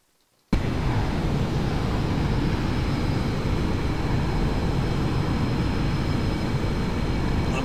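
Simulated engines of a NASA Boeing B-52G Stratofortress cruising at about 40,000 feet in X-Plane 10 start abruptly after a moment of silence and then roar as a steady, loud, broadband drone that holds constant to the end.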